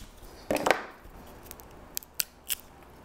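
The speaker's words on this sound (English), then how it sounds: "I'm gonna cut right here." Cutting through a dahlia tuber clump, with a crunchy snip-like cut near the start followed by a few sharp, brief clicks of the blade, close and fairly quiet, with no talk.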